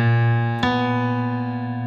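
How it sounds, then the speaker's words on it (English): A minor ninth interval rings out as a sustained dissonant chord, with a second note struck partway through and both tones held and slowly fading. "I keep hearing this interval called a minor ninth, which sounds like this."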